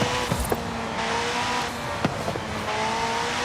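A McLaren Senna supercar in Forza Horizon 5, tuned to shoot flames from the exhaust, drones steadily at high revs with a few sharp pops and crackles over the engine note.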